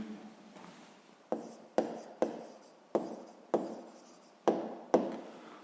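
A math solution is written out by hand in a series of about eight distinct strokes, each starting sharply and fading, spaced fairly evenly and close to the listener.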